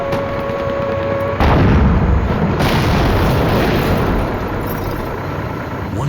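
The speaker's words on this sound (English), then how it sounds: "One blast from its 76mm main gun left the front of the TOC in ruins." A tank's 76mm main gun fires in a single massive blast, a sudden loud boom that rolls on into a sustained roar and rumble for several seconds after a quieter hum.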